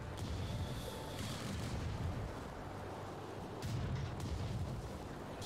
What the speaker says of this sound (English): Enemy anti-aircraft firing on us